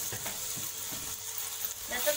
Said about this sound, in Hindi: अब हम इसको कम से कम 5 मिनट के लिए अच्छी तरह से भून लेंगे।